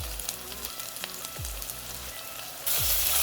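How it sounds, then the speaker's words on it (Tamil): Ginger and garlic sauté with onions in a pan, giving a dense, continuous sizzle with occasional low thuds and stirring noises that swell louder near the end. "இஞ்சி பூண்டு விழுந்து வச்சு நல்லா வதக்கிடலாம்"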